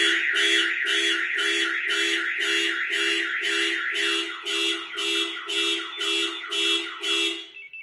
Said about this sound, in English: When the alarm is going off, you are not able to start the car.